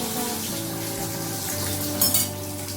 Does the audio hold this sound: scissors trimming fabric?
no